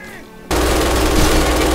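An MG 42 machine gun in the World War II shooter Red Orchestra 2 opens up with a loud, dense burst of rapid automatic fire that starts abruptly after a short quiet moment and roars continuously to the end.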